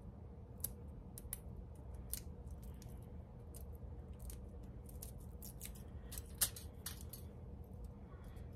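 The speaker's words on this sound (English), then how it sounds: "And you're going to peel your garlic, take off the skin." Garlic cloves being peeled by hand, the papery skin giving faint, dry, scattered crackles and ticks close by in an otherwise quiet room, with no talking.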